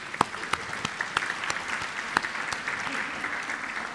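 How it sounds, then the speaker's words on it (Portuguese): Steady audience applause at a talk on skills and productivity, many hands clapping continuously for several seconds with sharper individual claps standing out, moderately loud and unaccompanied by speech. "Acho que merece uma salva de palmas"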